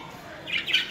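Pet budgie chirps in short bright bursts, rising toward the end of a brief indoor moment, with no clear wing flapping evident.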